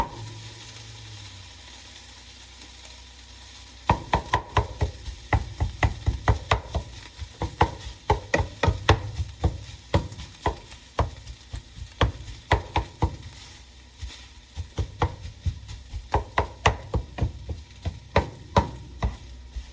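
Repeated sharp chopping strikes on a pan over a steady sizzle of frying meat, irregular and close, starting a few seconds in.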